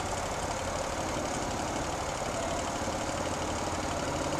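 A motorcycle engine idles with a steady, rough rumble nearby, continuous and unchanging throughout.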